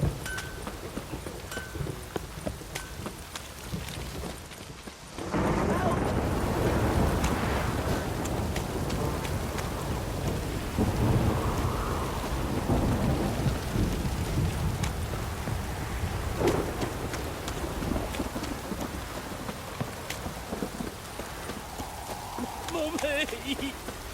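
Steady rain and rumbling thunder in the video game The Witcher 3 make a dense, continuous wash that swells after a quieter opening. A voice speaks over it.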